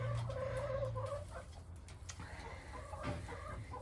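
Chickens clucking in a winterized chicken run, a few soft close clucks and low murmuring calls from hens settling in, with faint background noise.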